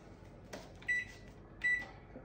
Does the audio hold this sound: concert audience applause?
no